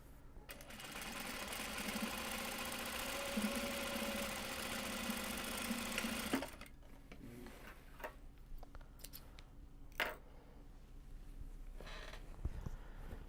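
A sewing machine stitches a large box bag of lightweight fabric, running loud and steady for about six seconds, then stopping, followed by quieter handling noises and brief clicks.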